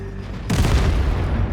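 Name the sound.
tank cannon shot in World of Tanks, from a video game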